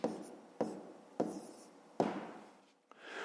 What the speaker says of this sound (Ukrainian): І в четвертому завданні пишемо число 46.